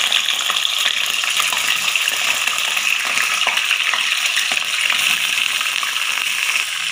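Half a kilo of washed chicken fries in oil for chicken karahi, a loud, dense, steady sizzle with faint stirring, no voices.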